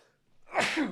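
One sharp, close human sneeze bursts out after a brief quiet intake, loud and over within a second.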